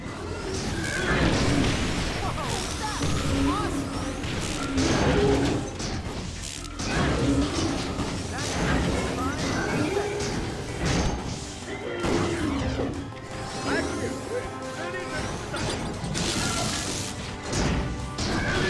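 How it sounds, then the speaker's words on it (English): A mortar slam smashes an enemy's shield in Ratchet & Clank All 4 One, amid a dense, continuous barrage of loud crashes, thuds and impacts. "Here players are going to have to use the mortar slam to take out his shield."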